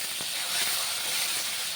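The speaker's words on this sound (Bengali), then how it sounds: "দিচ্ছি টমেটোগুলো একটু ভেজে নিব তেলে।" Tomatoes sizzle in hot oil seasoned with turmeric, a steady broadband hiss of frying that holds without a break at close range, with no voices over it.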